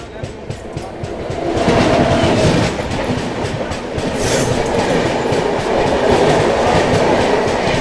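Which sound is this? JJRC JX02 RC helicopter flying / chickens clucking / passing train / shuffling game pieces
passing train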